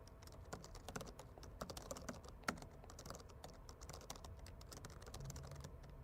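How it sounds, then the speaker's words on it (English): Rapid, irregular keystrokes on a computer keyboard as a basic Hello World Python app is typed, close and steady throughout, with one slightly sharper key hit midway and no talking. "I'll type in a very basic Hello World application."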